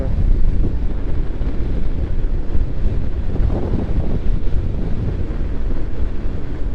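Strong wind buffets the microphone on a ride along Indonesia's Pantura coastal road, a loud, steady broadband roar that never lets up.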